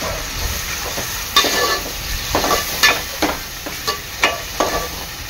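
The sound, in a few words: stirring onion and tomato puree frying in a pan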